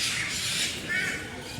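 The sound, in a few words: great Indian hornbill calling at Alipore Zoo, Kolkata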